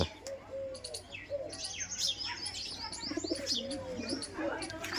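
Pigeons, including a black one, coo and chirp nearby in a cluster of overlapping throaty calls and brief tweets, with a faint flutter of wings and soft background noise throughout.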